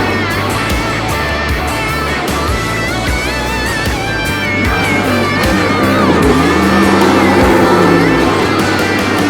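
Two ARCA stock cars doing burnouts, loud continuous engine revving with rising and falling pitch and a rough tyre roar throughout.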